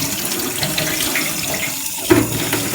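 Tap water runs steadily over dusty PON plant substrate being rinsed, a continuous close splashing hiss with a brief louder gush near the end.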